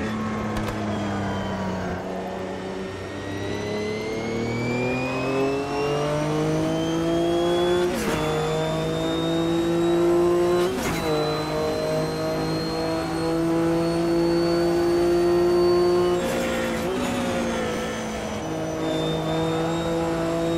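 A GTO race car in Automobilista 2 revs and shifts through its gears, the engine note climbing in pitch then dropping at each gear change, loud and close with a few sharp transients, no talking.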